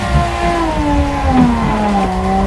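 A car doing a burnout in third gear, its engine holding a steady high roar with rising harmonics and a tire-squeal edge, loud and continuous throughout with no talk.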